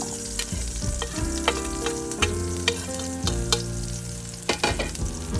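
Food sautés in coconut oil in a pan, a continuous sizzle broken by scraping and clinking stir strokes at an uneven pace, with no voices over it.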